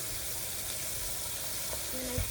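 Steady, quiet sizzling of food frying in a pan, a continuous hiss with a brief clink near the end; no talking.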